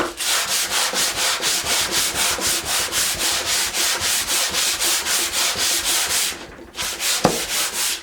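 Wood being hand sanded back and forth along the grain, a loud rhythmic scratching rasp repeating in even strokes about twice a second, with a brief pause and a knock near the end.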